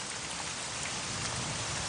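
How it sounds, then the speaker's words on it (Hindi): Heavy rain in an animated cartoon, a dense, steady hiss of downpour with no talk, fairly quiet throughout. "ये बारिश भी अभी होनी थी, बहुत तेज बारिश है ये"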